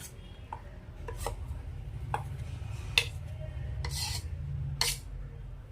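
Spoon stirring lava cake batter of melted chocolate and butter in a bowl, with repeated short scraping strokes and light clinks against the side, close and moderately loud, no voices.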